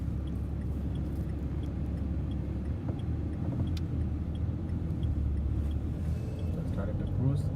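A car driven with a customized left-foot accelerator and hand control kit cruises along with a steady low engine and road rumble, fairly close and even in level throughout.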